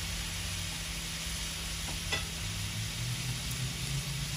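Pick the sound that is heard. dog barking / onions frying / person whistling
onions frying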